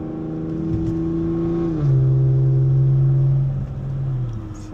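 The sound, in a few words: car engine revving with 6870 turbo spooling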